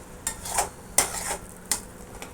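Spice masala being stirred and fried in a pan for a soya chunks recipe, with three or four sharp scraping clinks of a spoon against the pan over a faint, steady sizzle, close and fairly quiet.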